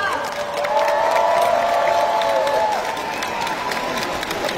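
A party convention audience applauds in a steady, sustained wash of clapping, with a few cheers rising above it.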